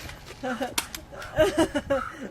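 A toy paint gun fires in a few sharp cracks during a backyard shooting game, heard close up under excited talk from people nearby.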